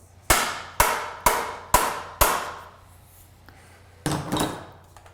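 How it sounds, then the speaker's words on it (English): A mallet taps a self-extracting bicycle crank arm: five sharp metallic knocks about half a second apart, then a brief pause and a closer pair of duller strikes, each ringing out briefly. "It may require some tapping with a mallet to encourage the arm to come all the way through."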